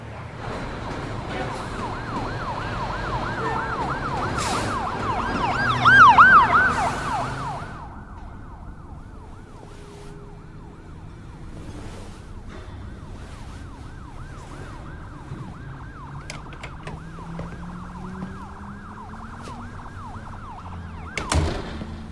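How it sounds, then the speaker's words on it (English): Wailing sirens rise and fall over a steady traffic rumble, loudest early on, then fading to a distant hum with passing cars. "Sirens. Car runs."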